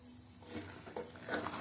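Potatoes in poppy seed paste simmering in a pan, a faint, brief bubbling sizzle with soft popping sounds.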